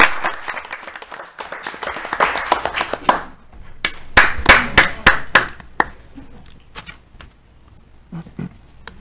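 Scattered applause from a small audience at a village board meeting honoring Mr. Jacobson, fairly close and uneven, dwindling to a few separate claps before fading out.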